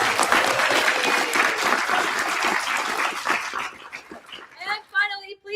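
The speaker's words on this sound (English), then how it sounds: "Give a round of applause." An audience at an entrepreneur camp pitch event bursts into loud sustained clapping that thins out toward the end, with a few voices audible as it fades.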